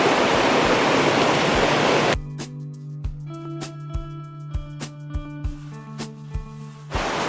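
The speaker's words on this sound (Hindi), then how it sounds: "चलो भगवान की दया से अभी ये झरना बचा हुआ है" The Tapovan waterfall pours with a loud, even rushing wash for about two seconds before it cuts away to quiet tonal music with soft, regular knocking hits.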